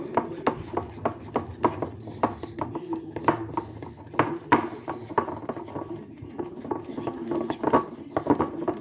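Spoon or whisk clinking steadily against a bowl while stirring a mixture with added coloring drops, a rapid irregular rhythm of light taps, close and moderately loud.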